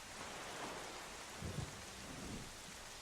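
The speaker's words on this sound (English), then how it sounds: "Man, it has been raining." Steady rain falling in the game The Wind Waker, a continuous hiss with a few low rumbles like thunder midway, no voices.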